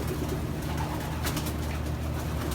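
A blue bar cock pigeon, band BCC 917, coos in low steady murmurs held close and fairly loud over a constant low hum, with no talk.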